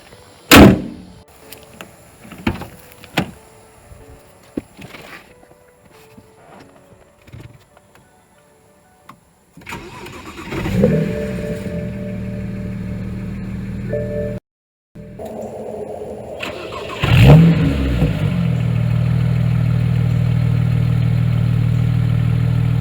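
A BMW 335i E92 with a 6-speed manual, bought as a salvage car, has its hood shut, then its engine starts with a sharp crank and catch, revs up, and settles into a steady idle.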